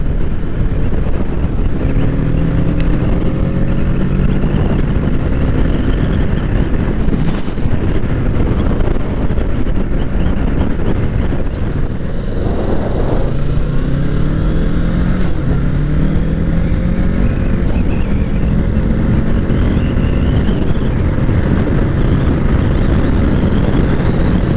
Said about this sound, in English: Listen to that wind, listen to it.